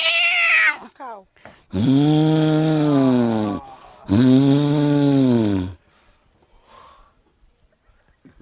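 A boy imitates a cow with his voice, two long, deep, droning moos, close and loud, with brief vocal sounds before and quiet breathing afterward.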